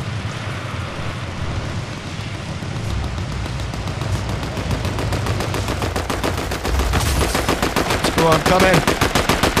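Rapid bursts of automatic gunfire in the video game Fortnite, dense repeated shots building louder toward the end, with players talking briefly over the action.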